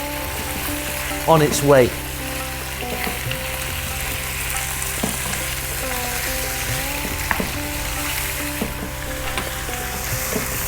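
Lamb pieces fry in a pan over slightly above medium heat, a dense, steady sizzle with occasional scraping and stirring clatter near the start. A voice speaks briefly.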